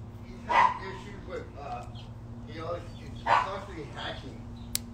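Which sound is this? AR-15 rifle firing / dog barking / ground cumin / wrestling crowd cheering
dog barking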